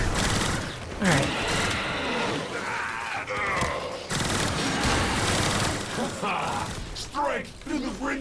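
Rapid automatic gunfire from the video game Warframe rattles almost continuously, loud and dense, with game effects and voices mixed underneath throughout.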